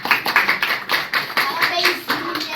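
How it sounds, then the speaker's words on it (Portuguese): An audience claps at a church gathering, a dense, steady patter of many hands lasting the whole stretch, fairly loud and close. "Palmas para a nossa amiga."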